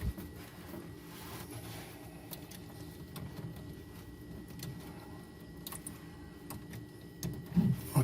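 A Tiertime 3D printer's gantry shifts about during auto calibration, giving faint, irregular motor whirs and small clicks and ticks over a low background rumble, with a few slightly louder knocks near the end.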